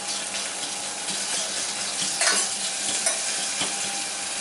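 A fork works loose a tomato and meat stuffing in a hot pan, making a dense, hissing sizzle with small scraping and tapping strokes. The sound is close and steady, and no talking is heard.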